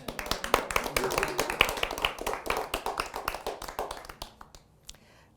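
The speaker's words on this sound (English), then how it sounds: "Give yourselves a fantastic round of applause." Small audience at an intimate office concert giving a round of applause, distinct individual hand claps in a quick uneven rhythm, close and crisp, thinning out and fading to a few last claps.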